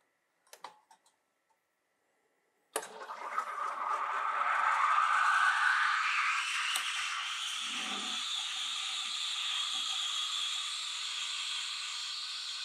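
An espresso machine frothing milk, a soft click or two then a sudden steady steam hiss and gurgle that swells and holds to the end, close and continuous.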